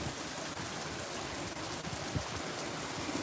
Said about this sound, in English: I kind of want to show you the rain